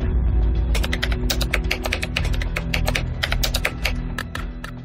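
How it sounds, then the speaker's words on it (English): Rapid, close typing on a computer keyboard as a new password is entered twice, crisp key clicks in an irregular flurry over a low steady hum. "That's Donahue typing his new password twice"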